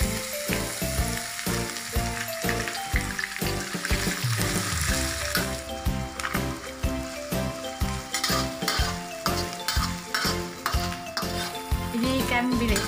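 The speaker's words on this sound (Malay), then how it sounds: "sekarang nih pula giliran ini bilis kita goreng" Anchovies (ikan bilis) frying in a pan of hot oil for Sabah-style yellow nasi lemak, a loud steady sizzle broken by repeated rhythmic scrapes and clinks of a utensil stirring against the metal pan.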